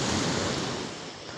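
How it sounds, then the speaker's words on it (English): Ocean waves wash in as a steady, loud broadband rush that fades slightly toward the end, with no voices over it. "I have to wait for the waves every time"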